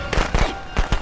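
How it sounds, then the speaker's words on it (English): Rapid bursts of sharp cracks and pops from video game fireworks, like a string of firecrackers going off in quick, uneven succession nearby. "Fireworks."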